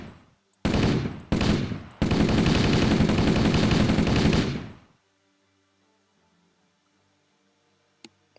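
Rapid automatic gunfire from Halo, loud bursts in quick succession: two short bursts, then one long sustained stream of shots that cuts off abruptly, followed by near silence with a faint click.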